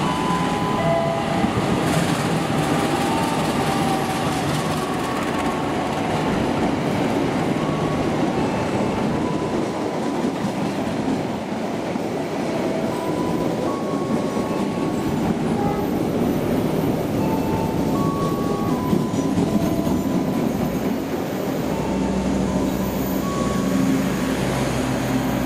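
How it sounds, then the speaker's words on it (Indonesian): Saunggali passenger train 111 rolls past on an Indonesian railway, a sustained loud rumble of wheels and carriages with faint rhythmic clatter and occasional tonal squeals, continuing for the whole stretch. "akan melintas kereta api Saunggali 111"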